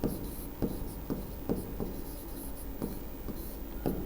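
A teacher writes on a board with a steady scratchy rubbing and regular tapping strokes, close and fairly quiet, with no talk.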